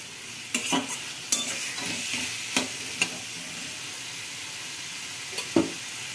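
Fried katla fish head being sautéed and stirred in a pan, a steady sizzle broken by scattered sharp scrapes and clinks of the spatula against the metal, close and fairly loud.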